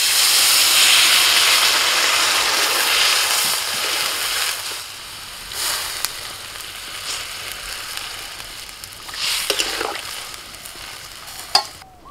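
Pan of fried vegetables hisses and sizzles loudly when water goes in, a steady steamy roar that eases off, with a few scraping stirs and clinks later on; no voices.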